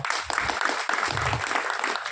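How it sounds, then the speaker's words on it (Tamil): Audience applause at a film audio launch event, a continuous dense patter of many hands clapping at moderate level, with faint low murmurs underneath. "அதுக்கு மிகப்பெரிய கைத்தட்டலை கொடுக்கலாம்"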